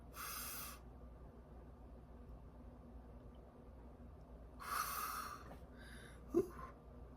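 Deep breathing in and out, with two distinct airy breaths about four seconds apart, close but faint in a quiet room, followed by a small sniff, with no talk.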